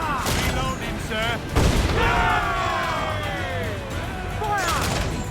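Ship cannons in Assassin's Creed IV Black Flag: heavy booms and crashing impacts in a naval battle, with shouting voices over the firing.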